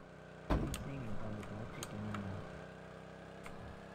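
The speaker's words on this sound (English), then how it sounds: "The cars are so loud!" Vehicles in the mobile battle royale game Rules of Survival make a thump followed by a steady engine drone with shifting low tones, which fades over a few seconds.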